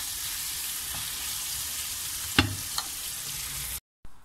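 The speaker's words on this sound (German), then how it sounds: "Ein bisschen lasse ich es noch braten." Food fries in a pan with a steady, close sizzle and crackle, broken by a sharp clack and a smaller knock of stirring near the middle, before the sound drops out abruptly.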